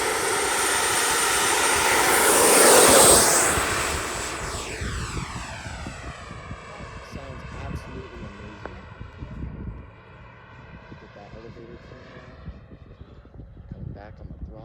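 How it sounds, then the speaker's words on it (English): A Freewing MiG-29 RC jet takes off with half flaps, its turbine-like whine swelling as it rushes past close by, then sliding down in pitch and fading into the distance while people talk quietly. "right now, we're taking off with half flaps"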